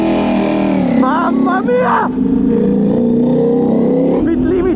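Ducati superbike engine revving on a wet track at Misano, loud and close with rising and falling pitch sweeps, a voice exclaiming over the engine.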